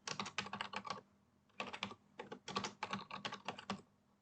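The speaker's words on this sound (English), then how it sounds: "You just need to enter your name, email, and password." Bursts of quick keystrokes on a computer keyboard, close up, arriving in several short runs separated by brief pauses, with no voices.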